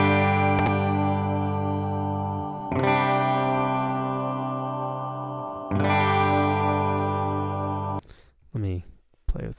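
An electric guitar played through a spring reverb sounds three sustained chords with a splashy, lingering wash, ending in a few short, choppy bursts of notes.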